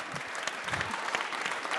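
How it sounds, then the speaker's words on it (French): Applause from a conference audience at a tech event, a continuous moderate patter of many hands clapping with a slightly uneven texture, fairly close and steady throughout. "On peut applaudir Sandrine."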